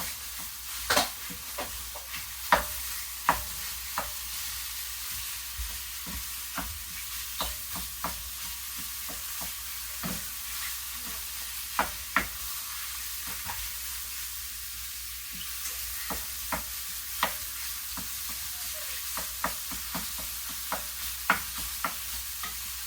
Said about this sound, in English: So I'm going to add the sausages now. I'm going to let all this cook together.